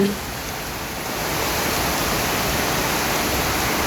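Heavy rain pouring onto a garden of potted bromeliads, a dense, steady hiss that swells slightly and holds loud throughout, with no voices.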